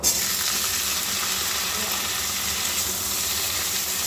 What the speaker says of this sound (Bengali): এখানে দিয়ে দিয়েছি পাঁচ ফোড়ন আর দিয়েছি একটা শুকনো লঙ্কা